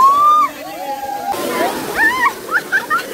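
A crowded waterfall where people bathe and swim, its water rushing and splashing steadily close by while people talk over it.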